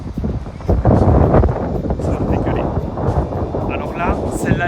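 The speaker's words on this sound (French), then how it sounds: "il y a le vent contre qui la freine, je pense, parce que le vent est énorme" Strong gusts of wind buffet the microphone on a links golf course, a loud rough roar and rumble that surges and fades irregularly, with people talking over it.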